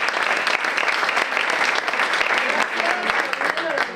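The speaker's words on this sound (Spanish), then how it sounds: "Así que un aplauso para..." A room full of people applauds at a storytelling event in a library, with dense, loud, sustained clapping throughout and voices mixed in beneath it.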